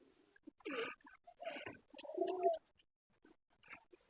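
Pigeons at a nest holding eggs and chicks give several close, throaty coos in short bursts, with quiet gaps between them.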